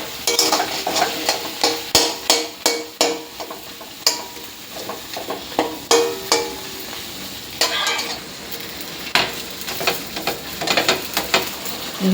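Curry simmering in a pan is stirred with a spoon, making a rhythmic series of close scraping strokes over a soft bubbling sizzle, with the strokes coming quickly at first, then more sparsely.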